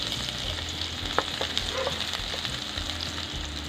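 Garlic sautés in a hot pan, a steady close sizzle with a few sharp crackles and pops and soft scraping of stirring, with no voices.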